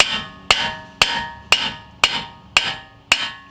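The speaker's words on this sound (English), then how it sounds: "I'm gonna give it a few whacks with the hammer just to get that axle to go drive back inside of the spline of the hub bearing" A hammer strikes a drive axle seven times in an even rhythm, knocking it into the hub bearing spline of a 2008-2012 Chevy Malibu, each sharp metallic whack ringing out briefly, close and loud, with no talk.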